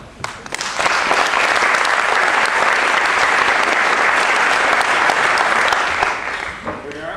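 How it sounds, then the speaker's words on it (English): Sustained audience applause at a live Ignite presentation event, loud and dense clapping rising quickly and holding steady for several seconds before tapering off. "Let's hear it for Nayan Hajratwala."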